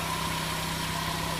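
A 2002 Dodge Stratus 2.4-liter dual overhead cam four-cylinder runs steadily on an engine test stand at a wrecking yard, a close, even hum with a constant low drone and no talk.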